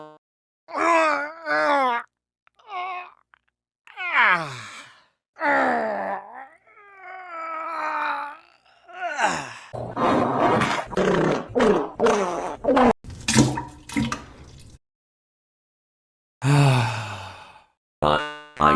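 Comic pooping sound effect made of vocal groans, strained moans and sighs in separate bursts, followed by a noisy spluttering crackle and a few sharp hits, alternating with short pauses.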